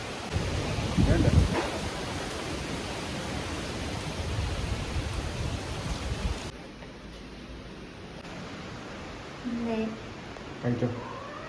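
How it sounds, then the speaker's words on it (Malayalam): Loud, blustery wind buffets the microphone with a rough roar for several seconds, then drops to a calmer hiss as a voice briefly speaks. "ഭയങ്കര കാറ്റ് കേട്ടോ"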